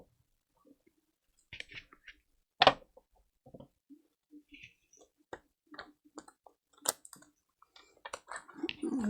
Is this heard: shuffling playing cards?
yes